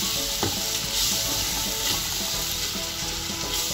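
Ginger garlic paste sizzles loudly in a pan while being stirred for a chicken dum biryani, a dense, steady frying hiss with occasional scraping of the spoon, close and continuous throughout.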